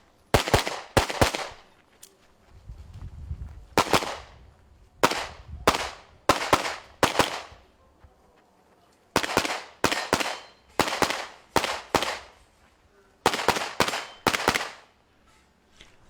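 Rapid bursts of gunshots at a practical shooting competition stage, open division, fired in quick double-tap clusters separated by short pauses, sharp and loud, with no talking.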